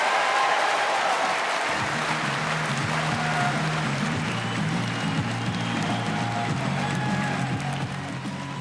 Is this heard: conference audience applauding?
yes